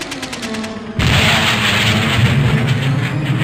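A single loud gunshot bursts out after a brief lead-in, followed by a sustained rumbling echo and reverberant noise that lingers to the end.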